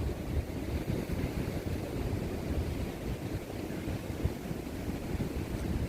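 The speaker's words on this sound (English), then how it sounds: "it's really windy" Strong gusty wind roars steadily across the microphone on a windy day where a DJI Mini 3 Pro drone is being flown, a dense rumbling buffeting with no voices.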